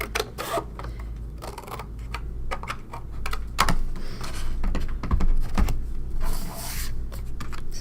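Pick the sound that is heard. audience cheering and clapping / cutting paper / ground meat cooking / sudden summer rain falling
cutting paper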